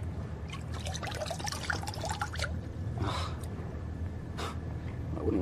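Water drips and trickles in a stagnant reservoir, as a radio drama sound effect: faint, irregular droplets over a low hollow background, with no voices.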